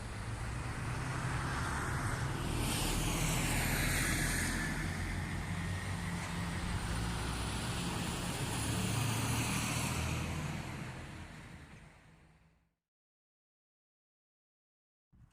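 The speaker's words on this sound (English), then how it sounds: "Sorry for the noise of the wagons coming past." Heavy wagons and trucks rumble past on a road through Avebury village. A loud, broad roar swells, holds for several seconds and then fades before cutting to silence, heard close by with no talking.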